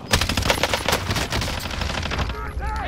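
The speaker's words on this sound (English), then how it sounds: "Taking fire over here!" Loud, close automatic gunfire from a video game rattles in rapid continuous bursts that last almost the whole moment.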